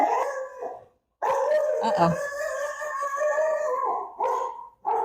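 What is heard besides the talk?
rescue dogs howling and barking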